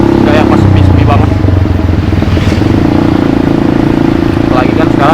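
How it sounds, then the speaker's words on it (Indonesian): Motorcycles pass along a busy street late at night, a loud, steady engine drone that swells slightly with each passing bike, with voices talking over it. "motor-motor lewat ya"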